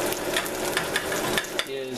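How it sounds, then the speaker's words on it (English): Spaghetti all'assassina sizzles and fries steadily in a pan, a loud continuous crackle with sharp pops scattered throughout, heard close up with no talking. "you can hear it crackling and popping, and you can see it starting to brown and thicken here"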